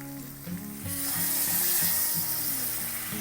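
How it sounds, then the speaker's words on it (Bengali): Water goes into a pan of well-fried masala for a soya chunk and boiled potato kofta curry, setting off a loud hissing sizzle that swells after a quiet start and holds steady, with faint music underneath. "এবারে আমি জলটা দিয়ে দেবো"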